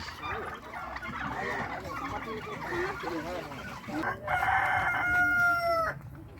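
Chickens at a resort near Bishnupur, Bankura, with a crowing call near the end that sounds like a rooster, over murmuring voices in the background.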